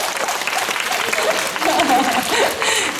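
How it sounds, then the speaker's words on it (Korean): A cinema audience claps at a film premiere event at CGV Yeongdeungpo, and the dense applause fills the whole moment. Background voices and a bit of chatter mix in with the clapping. "네, 박수 부탁드립니다."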